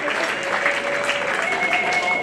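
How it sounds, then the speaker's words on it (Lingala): Guests at Cecile and Pierre-Claver Kalonda's church wedding applaud in a dense, steady burst lasting a couple of seconds, with a faint sustained tone running beneath the clapping. "Mesdames et messieurs, encore une fois de plus, acclamez très"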